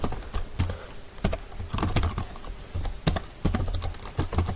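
A website address typed on a computer keyboard: quick clusters of sharp key clicks in uneven bursts with short pauses between, close and clear, with no talking.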